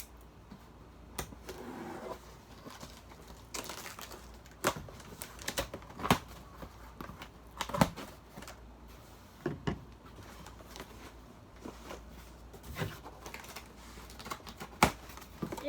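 Cardboard Amazon shipping box being handled and opened, with sharp crinkles, taps and scraping bursts of packaging close by, no talking.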